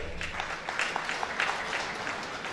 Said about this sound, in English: Otu and his beautiful wife Patricia Otu, give them a big round of applause.